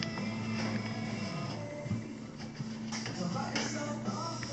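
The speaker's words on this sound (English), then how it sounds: "He's running it through this tenderizer. Just drops it in here, cranks the handle that comes out the bottom." A hand-cranked meat tenderizer works through deer meat with a steady mechanical whirring and grinding, joined by a few light clanks and rattles at close range and nobody speaking.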